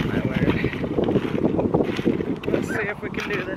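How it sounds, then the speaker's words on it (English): Gusty wind buffets the microphone outdoors while a fire is being started, with rough, fluctuating rumble, while a voice talks underneath. "it's getting windy"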